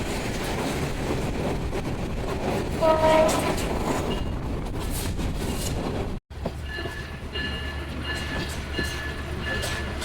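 Mohanagar Express rolling past the Jamuna Express at Tongi outer, with steady loud rail rumble and wheel clatter, a short train horn blast near the middle, then a brief cut before the rumble resumes with a lower steady drone.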